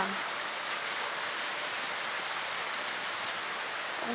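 Steady storm rain at a house hissing evenly without letup, a continuous broadband wash of drops on surfaces, moderately loud throughout.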